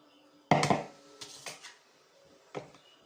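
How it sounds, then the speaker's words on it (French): A first mixture tipped in one go into a bowl of firm, stiffly beaten egg whites for tiramisu, with a loud clatter and scrape of bowl and utensil, followed by a few softer knocks and a brief final clink. "je vais intégrer en un coup mon premier mélange dans mon blanc en neige, qui est assez ferme"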